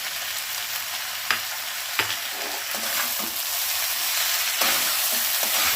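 Ground spice masala for fish head muri ghonto sizzles steadily in a pan as it is stir-fried, a continuous hiss punctuated by several sharp spatula scrapes and knocks close by.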